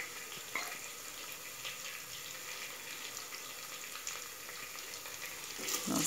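Ginger garlic paste sizzles in a pan with turmeric while cooking goat head curry, giving a soft, steady frying hiss that continues quietly, with a slightly louder clatter near the end.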